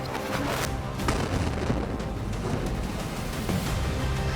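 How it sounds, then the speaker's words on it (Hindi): Heavy booming blasts from an attack in the Israel–Hamas war rumble amid sharp cracks, a dense, loud wash of explosive noise with a few distinct impacts. "एक जोरदार धमाका होता है और फिर सब कुछ शांत हो जाता है।"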